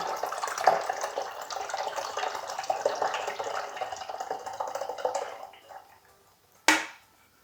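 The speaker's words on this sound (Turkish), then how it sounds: "Her bir kutuyu açıp içine dökeceğim." Peach and apricot nectar poured from opened cans into a home fermenter gives a steady splashing gush for about five seconds. The stream tapers off, then one brief knock or clunk follows.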